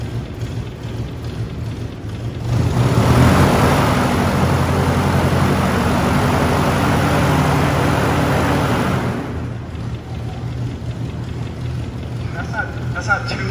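A propeller-powered car at a motor museum running at about 10 to 15 percent throttle, a loud whooshing roar swelling in after two seconds, holding steadily, then dropping away near the ninth second, with a voice talking.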